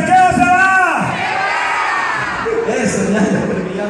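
A bar crowd at a Halloween costume contest cheers, shouts and whoops loudly to vote on a costume, with excited voices overlapping through the noise and a slight swell partway through.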